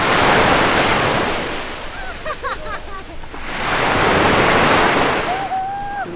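Ocean waves roll onto a resort beachfront at Batu Ferringhi, Penang, loud surging surf with wind buffeting the microphone, swelling and receding twice, with brief faint voices and a bird call.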